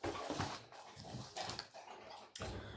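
A dog indoors whimpers and whines in soft, uneven bursts, close but faint, with brief pauses between cries.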